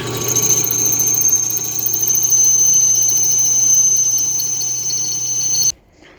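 A steady high-pitched whine of a power drill boring into heavy metal, continuous and loud for several seconds before cutting off abruptly.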